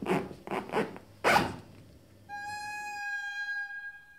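Several quick zipper pulls rasp open a bag in short bursts, then a faint meow-like tone from a cat follows briefly.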